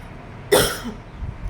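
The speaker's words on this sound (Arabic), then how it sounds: "عندي كحة كده شوية" A single sharp cough bursts out, followed by a softer throaty sound and quiet breath noise.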